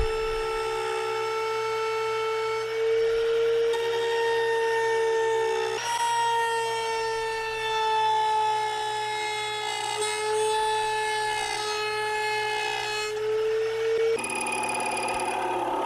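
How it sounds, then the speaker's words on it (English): A steady, high-pitched whine from a router with a flush-cutting bit runs nearly continuously as it shapes a wooden guitar neck, its pitch shifting slightly as it cuts, loud and close. "I'm using a flush cutting router bit to get it to the final shape"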